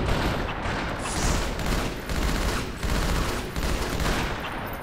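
Pistol gunfire in a shooter video game, a dense run of loud, sharp shots and explosive bursts carrying on steadily for several seconds with barely any pause between them.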